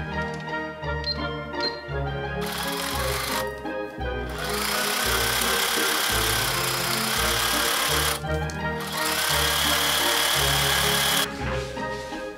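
A sewing machine stitches the back center seam of a dress with long basting stitches and then normal ones, running in loud steady mechanical whirring bursts broken by short pauses between passes.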